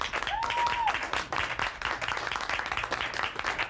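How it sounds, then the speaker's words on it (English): Studio audience applause at a 1984 wrestling talk show, steady dense clapping heard close and fairly loud, with a short whistle near the start. "By way of applause, let's hear it for Mr. Wonderful."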